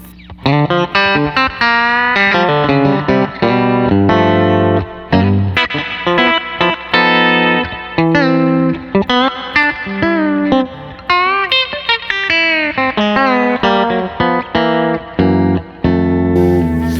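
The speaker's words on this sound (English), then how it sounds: "Just your good old Tele sound." A Telecaster electric guitar played in turn through its neck, both, and bridge pickups, a clean twangy run of chords and single-note licks with light effects, loud and close, no voices over it.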